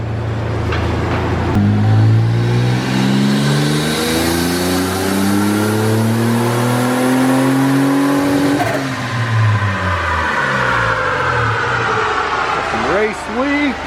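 Turbocharged, 300,000-mile Toyota 4Runner with a stock ECU and FMU revs hard on a dyno, its engine note climbing steadily in pitch through a long pull, then dropping off and settling; loud and close, with voices talking over it.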